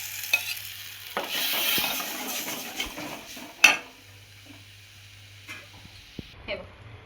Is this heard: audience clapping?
no